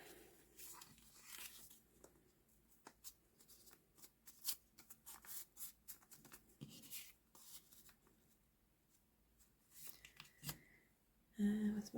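Paper is folded and creased for a paper snowflake craft, giving scattered soft rustles and sharp crinkling flicks close up, with quiet pauses between handling sounds.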